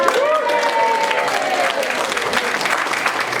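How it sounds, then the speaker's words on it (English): Audience applause at a union strike-songs sing-along, steady dense clapping throughout with a few voices calling out over it, close and fairly loud. "Give yourselves a round of applause."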